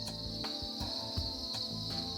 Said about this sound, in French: Jichai Nokombud élève depuis 5 ans plusieurs sortes de grillons et de criquets